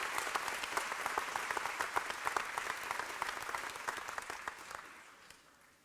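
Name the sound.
applause for graduates at commencement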